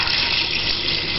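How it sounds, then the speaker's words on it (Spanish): Tap water pours steadily into a cooking pot to cover chickpeas and bay leaf, a close, continuous gushing rush with no talk. "Así que ahora cubrimos de agua"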